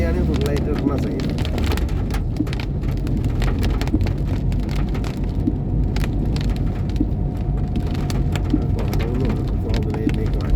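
Steady rain drumming on a moving car, likely an XUV 300, as it drives through a wet downpour; a constant dense patter and road rumble run throughout at close range.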